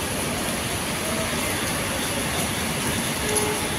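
A train runs steadily on its rails during heavy rain near Howrah, giving a continuous rumbling roar with faint rhythmic clatter, heard from inside the carriage at moderate level.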